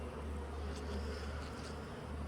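Honey bees buzzing in an opened hive while frames are handled, a dense, steady low drone of many bees close by with no break.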